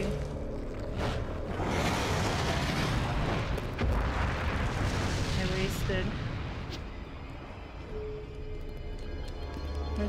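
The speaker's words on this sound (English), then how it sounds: "Okay, I'm gonna use my grenades. I have so many. Oh, I'll use incendiary." An incendiary grenade going off in Resident Evil 4 on the Wii, a loud sustained roaring blast and crackling burn filling several seconds, with a person talking over it.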